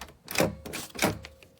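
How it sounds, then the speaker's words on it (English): A black privacy door lever handle on a locking set is worked quickly, giving two sharp, loud latch clacks with rattling mechanical clicks between and after them, close up. "it's just really loud compared to our other door handles"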